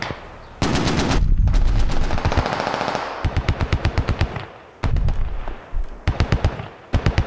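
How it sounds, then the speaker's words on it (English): Gunfire in the video game Squad: loud close bursts of automatic fire with rapid repeated shots, pauses between volleys and a final string of separate cracks, no voices. "Shots from behind, Dixfolk dies!"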